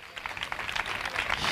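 Audience applause at the closing ceremony of a community health event in Palma-Palmilla, a steady dense patter of clapping hands filling the room throughout.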